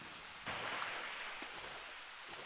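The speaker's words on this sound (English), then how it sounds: "Can't see a lot with the raindrops." Rain starts abruptly and keeps falling in the island video game The Tourist, a steady broad hiss of raindrops on surfaces that holds evenly without pause.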